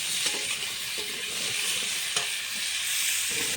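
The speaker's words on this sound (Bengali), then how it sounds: "এখানে আলুটা ভাজা হচ্ছে" Potatoes frying and being stirred in a pan, a continuous loud sizzle with occasional soft scrapes from stirring, close up and without talk.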